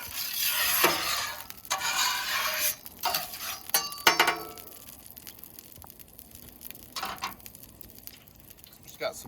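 Peppers and onions sizzle in hot vegetable oil on a griddle, a steady close frying hiss broken by scraping and stirring clatter of utensils, loudest early then settling to a softer sizzle.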